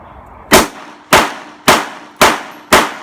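Five loud, sharp shots from an Avidity Arms PD10 pistol prototype being test-fired at an even pace about half a second apart, each a close crack with a short decay, with no talk.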